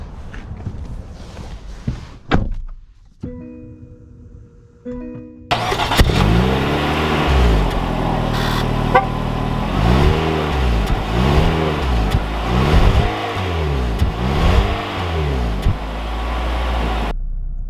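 A 2022 Mitsubishi Outlander SEL starts up after some quiet cabin shuffling and a thud, then drives off, its mid-pitched engine loud and close, rising and falling through several gear-change sweeps.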